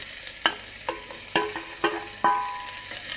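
Small shallots and tomato for drumstick sambar stirred in a pan, a soft sizzle broken by five sharp scraping clacks of a spoon against the pan, close by with no talking.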